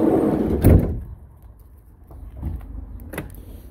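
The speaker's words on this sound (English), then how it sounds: "Let's open up the side door." The sliding side door of a 2018 Ram ProMaster 1500 van opens with a loud close clunk and rolling slide, followed by fainter mechanical knocks and clicks.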